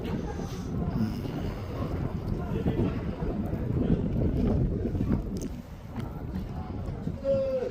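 Strong wind gusts across open high ground in Tingri, Tibet, a steady loud roar buffeting the microphone throughout, with a few faint thuds and rattles mixed in.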